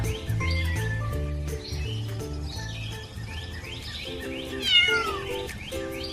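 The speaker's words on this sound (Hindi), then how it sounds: "और ये आई प्यारी बिल्ली।" A cartoon cat meows a few times over busy, bouncy background music in a Hindi animated children's story, the calls rising above the melody near the end.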